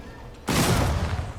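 A sudden loud blast bursts in after a quiet lead-in, followed by a rumbling, crackling tail that slowly fades.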